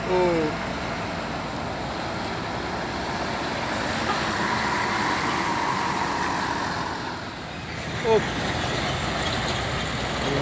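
A loaded truck labours up a steep incline while overtaking on the right lane, its engine a steady heavy drone with road noise throughout and a brief hiss near the end; someone talks over it.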